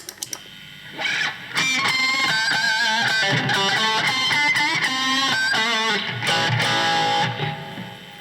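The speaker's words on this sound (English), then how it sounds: "that's basically all my distortion sounds that I use" Heavily distorted electric guitar through a Zoom G2 Nu effects pedal, playing a sustained, buzzy lead line with bent notes, loud and close, after a few quiet clicks at the start.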